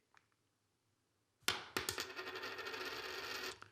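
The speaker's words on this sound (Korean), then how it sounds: "뭔가 동전 같은 게 떨어진 소리가 들렸죠?" A coin drops onto a hard surface as a played sound effect, with a couple of sharp metallic strikes followed by a bright ringing spin and rattle that settles after about two seconds.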